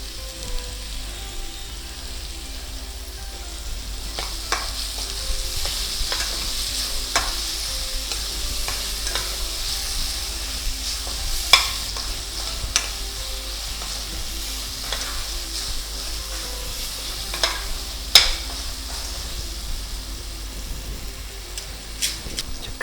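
Steady sizzling of tomato and onion frying in a pan, with occasional scraping stirs and clicks, no talking.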